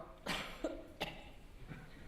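A few short, dry coughs in quick succession, close and fairly loud, then a fainter one trailing after a pause.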